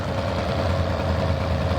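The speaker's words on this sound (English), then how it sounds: "This, ladies and gentlemen, is a Lands Bulldog, the giant single-cylinder tractor." A Lanz Bulldog single-cylinder tractor engine idles nearby with a low, shaking, pulsing rumble that holds steady throughout.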